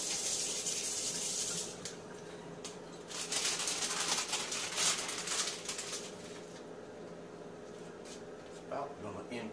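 Tap water runs steadily into a sink as spinach leaves are rinsed under it, a continuous splashing close by with brief pauses and a voice speaking now and then.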